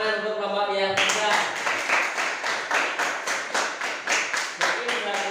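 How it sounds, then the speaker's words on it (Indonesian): Classroom applause for a student discussion group at an elementary school, a burst of steady clapping from many hands that starts abruptly after a moment of speech and continues evenly at close range. "beri tepuk tangan untuk kelompok yang 3"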